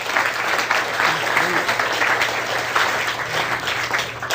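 Seminar audience applauding a volunteer at a hypnosis demonstration, dense continuous clapping filling the room at a steady level throughout.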